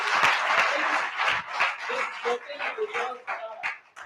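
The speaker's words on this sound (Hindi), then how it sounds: "थोड़ी जोर से ताली बजा दो" After a talk at an association event, the audience applauds loudly and energetically, with sharp hand claps mixed with raised, cheering voices that fade toward the end.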